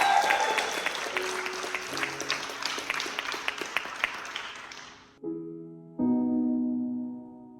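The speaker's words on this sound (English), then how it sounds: "a round of applause for Madison" Audience at a Welsh talent show applauding with dense, sustained clapping that fades out before music begins.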